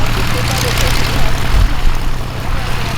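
A Cessna propeller plane flies past during arrivals at EAA AirVenture Oshkosh, its engine drone loud and steady throughout. An announcer's voice talks over it.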